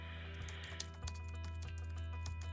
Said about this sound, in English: His fingertips tap away on the keys, interrupted by a couple of sporadic click sounds